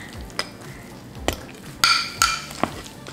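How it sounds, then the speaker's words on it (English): A fork mashes melted baked feta cheese in a dish, giving a few sharp metallic clinks against the dish with soft squishy scraping between them, close and moderately loud, with no talking. "now you're gonna grab a fork and smash it down"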